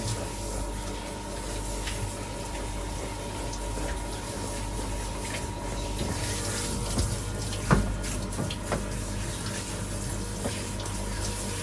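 A garden hose sprays water in a steady, close rush that lasts throughout, while a dog is being washed outdoors. A few faint clunks and knocks sit beneath the constant flow, and no one speaks.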